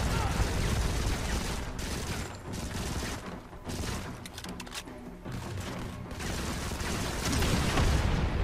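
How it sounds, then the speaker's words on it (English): Dense, continuous gunfire and rocket explosions from enemies in the mobile shooter Modern Combat 5: Blackout, loud and sustained across the whole stretch with brief dips, crackling bursts layered over one another. "They're shooting rockets at me?"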